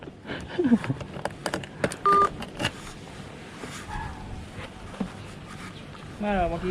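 A phone dials a call center, giving short keypad tones and brief electronic beeps near the start, amid background talk and handling noise.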